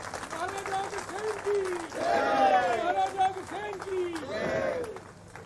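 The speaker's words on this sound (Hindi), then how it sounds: "जब तक मुख्यमंत्री जी यहां नहीं आते तब तक जोरदार तालियां रखे" Loud audience applause fills the hall at the naming ceremony for Maharaja Agrasen International Airport in Hisar, swelling and fading in waves while a voice speaks over it.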